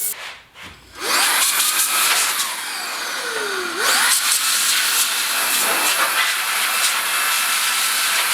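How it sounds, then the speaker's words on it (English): Rust converter hisses out of a spray can onto the wheel of a 1974 Yamaha RS100 motorcycle in long, loud, continuous bursts, following a few faint knocks at the start, with no speech. "might as well spray on the rust converter and show you how that works"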